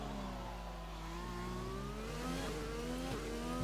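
An F1 race car engine in F1 2020 accelerates hard out of a corner, its high-pitched whine climbing steadily through the revs with a brief drop at an upshift, loud and close with no talking.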